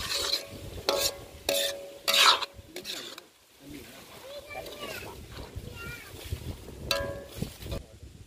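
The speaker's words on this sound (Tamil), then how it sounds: "அதுக்காக நம்ம இப்போ கொஞ்சம் நல்லா ஃப்ரையாக வதக்கிடுவோம்." Tomatoes and onions stir-frying in a pan for mutton and goat intestine gravy, with repeated loud bursts of spoon scraping and sizzling over a steady fry, while people talk throughout.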